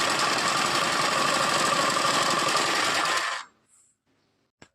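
A sewing machine runs steadily at close range, stitching cloth in one continuous loud burst for about three seconds before stopping abruptly, followed by near silence and a faint click.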